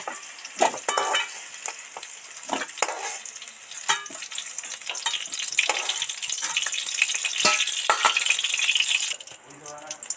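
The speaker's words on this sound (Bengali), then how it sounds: "ফোড়ন আর আলু একসাথে ভাজতে দারুণ লাগছে" Potatoes fry in hot oil with whole spices for a sabu khichuri, a steady close sizzle broken by repeated clinks and scrapes of stirring that run the whole way through.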